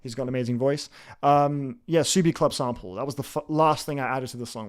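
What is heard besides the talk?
None of the usual background noises is heard.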